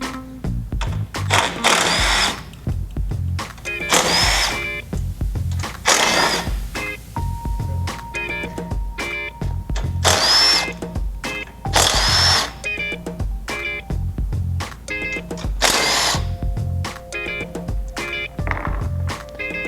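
Loud power drill backing screws out of the seat bracket on a Honda Ruckus scooter, in repeated whirring bursts with short pauses between, clanks and handling noise in between, no voices.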